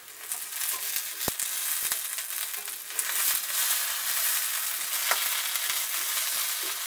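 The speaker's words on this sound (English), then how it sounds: "And fry away. You have to cook hash browns quite a bit." Hash browns fry in a pan with a dense, continuous sizzle and crackle, close and steady, broken by a couple of sharp scrapes or taps.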